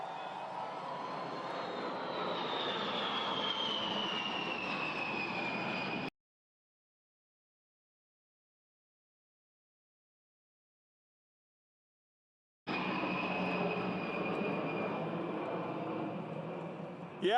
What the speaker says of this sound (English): Yeah, baby, that's a B-52.